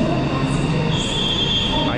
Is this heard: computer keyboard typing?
no